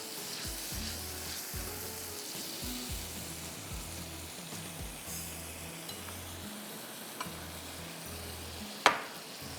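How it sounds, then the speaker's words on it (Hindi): Potatoes, carrots and beans tipped into a hot pot of oil for biryani, a steady close sizzle and frying hiss with a few light stirring knocks and one sharp clink of a utensil near the end, no talking. "सब में पहले मैं आलू डाल रही हूँ, गाजर डाल रही हूँ, सेम डाल रही हूँ।"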